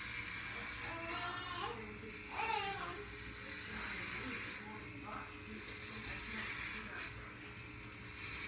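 Electric clippers running over a head to shave off long, thick dark hair, a continuous droning buzz held close throughout, with faint voice-like sounds in the background.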